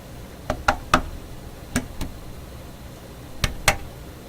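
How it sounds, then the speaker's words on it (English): Reverb springs rattling inside a Traynor 8/201 analog mixer give a sparse series of sharp, close metallic clicks and knocks, irregularly spaced, with a quiet hum underneath and no talking. "That's the reverb springs vibrating in there."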